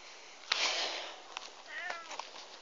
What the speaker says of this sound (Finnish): Molemmat kissat haluu sisälle.